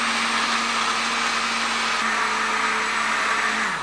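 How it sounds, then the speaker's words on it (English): A blender mixing a milkshake whirs steadily at close range, a loud continuous motor drone with a faint pitch dip near the end. "mix it in a blender."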